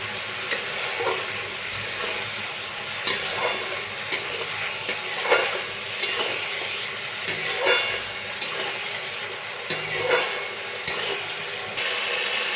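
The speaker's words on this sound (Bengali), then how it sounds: "দিয়ে দিচ্ছি পরিমাণ মতো হলুদ, পরিমাণ মতো লবণ, সামান্য জল দিয়ে মশলাটা কষে নেব।" A spice paste with turmeric, salt and a little water is stir-fried in a pan for a pumpkin and rohu fish head curry, giving a soft continuous sizzle punctuated by regular sharp scraping and clanking strokes of the spatula.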